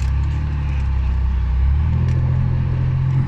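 A Mercedes G-Class in normal city drive mode rolls along a forest off-road track, its engine giving a close, steady low rumble with a slight swell midway, no voices.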